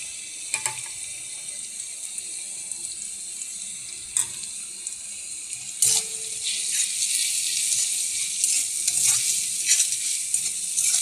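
Onion fries in a pan with ginger, cumin and green chilli, a steady sizzle with sharp clinks and scrapes from stirring, growing louder toward the end.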